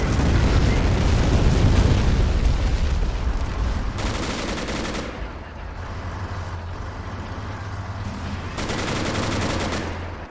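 Artillery bombardment in the video game Men of War: Assault Squad, set in Barbarossa 1941 on a Soviet defense line, with loud, continuous rumbling explosions and crackling gunfire that swell and ease in rolling waves throughout.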